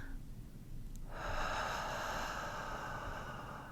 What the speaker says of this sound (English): We breathe in.